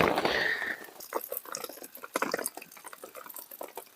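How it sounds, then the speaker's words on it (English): Cooked peas are drained at a wet woodland camp, a rush of water pouring out at first, then settling into irregular drips and splashes, close and fairly quiet with no talk. "sounds like I'm having a wee, but I'm draining my peas"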